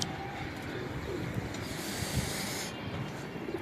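Pigeons coo softly at Ustad Rehan Khan's rooftop coops in Karachi, low burbling calls repeating under a steady hiss of outdoor background noise.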